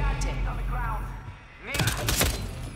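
A quick burst of several gunshots cracks out in Hitman 3, following a stretch of someone talking.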